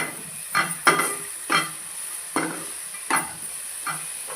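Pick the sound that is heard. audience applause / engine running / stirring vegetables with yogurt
stirring vegetables with yogurt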